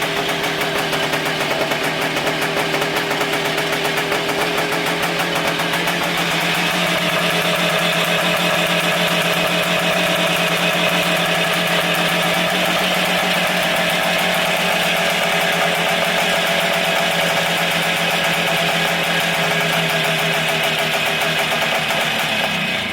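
A 1971 Bultaco Alpina motorcycle engine idling without a muffler, a loud, steady, buzzing exhaust drone holding constant for over twenty seconds with no voices.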